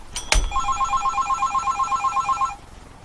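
A military field telephone rings through an STU-5 signal terminating unit, producing a loud, fast-warbling electronic bell tone that lasts about two seconds after a sharp click.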